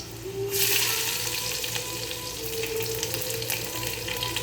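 Chopped ginger, garlic and green chillies hit hot oil in a pan, a sudden burst of loud sizzling that settles into a steady, crackling fry with occasional stirring clinks.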